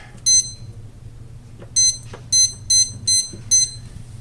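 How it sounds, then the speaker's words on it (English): An oven's timer beeps in short, sharp bursts as its buttons are pressed, six quick electronic beeps spaced irregularly over a low kitchen hum. "We're going to set the timer for 20 minutes."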